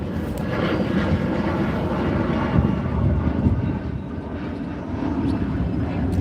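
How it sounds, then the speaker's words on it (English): An airplane passes overhead as a loud, continuous engine roar that swells slightly and then eases off. "Letting the plane pass."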